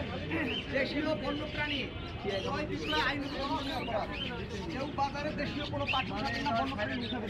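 Pigeons at the Mugda pigeon market in Bangladesh give scattered chirps and coos, mostly buried under dense crowd talk and market bustle.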